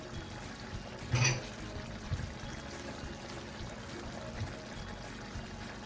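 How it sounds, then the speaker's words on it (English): Water pours into a cooking pot of brown stew chicken, about half a cup, with a steady, soft splashing stream that stays fairly quiet and close throughout. "I am going to go ahead and add just half of a cup of water to this."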